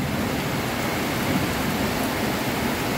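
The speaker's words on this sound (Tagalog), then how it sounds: "malakas na yung ulan." Heavy typhoon rain pouring steadily and loudly, a dense unbroken hiss of downpour close by, with no voices.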